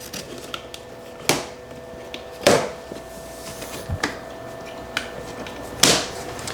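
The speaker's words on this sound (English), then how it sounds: "Now we can open the box." A cardboard shipping box for an embroidery machine being cut and pulled open, with a handful of sharp rips and cracks spaced apart against a quiet room hum.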